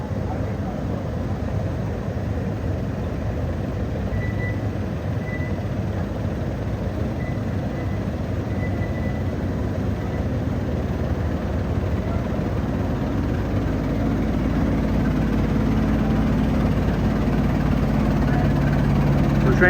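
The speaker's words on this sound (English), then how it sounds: "And the train is now coming in. They're pulling to the station." A train pulling into a station at Six Flags Magic Mountain theme park, a steady low engine rumble and drone that grows slightly louder toward the end.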